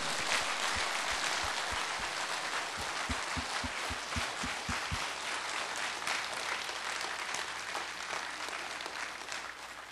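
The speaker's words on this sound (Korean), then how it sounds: "우리 하나님께 영광의 박수 한번 하십니다" A church congregation applauds in praise: a few slow rhythmic claps at first, then a dense, steady roar of clapping from the whole crowd that carries on loudly throughout.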